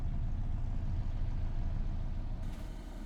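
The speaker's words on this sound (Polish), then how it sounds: "powłączamy silniki, żeby nas było słychać" Farm vehicle engines rumble in Farming Simulator 25, a dense, steady low drone of idling motors filling the scene at moderate loudness, with no voices over it.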